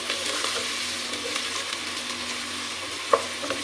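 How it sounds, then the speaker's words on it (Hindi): Sliced medium onion frying in a pan for karela chana dal, a steady close sizzle with faint stirring scrapes and one sharp clink near the end, no voices. "इसको फ्राई करेंगे, यानी कि इसको सॉफ्ट करना है जस्ट।"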